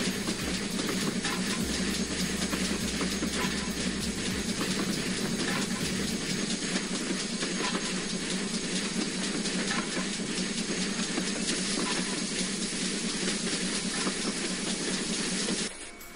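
A Hall class steam locomotive in a train simulator working slightly uphill, giving a steady, continuous chuffing rumble with rail clatter and hiss that holds at a constant loud level throughout.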